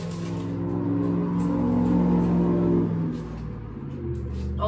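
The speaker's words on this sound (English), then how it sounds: "You're just seeing the cars drive by." Cars driving by on a road at night, a steady close rush of engine and tyre noise swelling and fading as vehicles pass one after another, with no talking.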